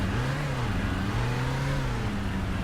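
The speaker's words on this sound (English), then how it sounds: "It's quite a noisy bus, isn't it, compared to the others as well." Bus engine revving loudly in Fernbus Simulator driving gameplay, a steady droning mid-low engine note with shifting pitch that holds throughout at close range, with no talking.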